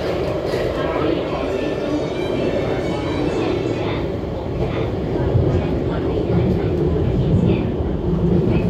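An MTR SP1900 train runs on the West Rail Line, a loud, continuous interior rumble and roar of wheels and motors that holds steady and swells slightly toward the end.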